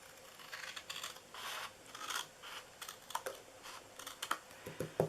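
Scissors snip through paper while trimming pieces for a homemade birthday candy holder, giving a run of close, crisp cuts and rustles in an irregular rhythm with no talking.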